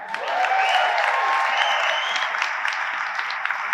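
Audience at a university graduation ceremony applauds and cheers in a dense, sustained wave of clapping with a few whoops, filling the hall throughout.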